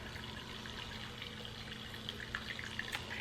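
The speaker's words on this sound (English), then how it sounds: "I keep moving the water and the little pumps kind of like in and out" A small tabletop water fountain with a little pump runs steadily, giving a continuous low trickle and pour of water with faint splashy drips, close and fairly quiet, with no talking.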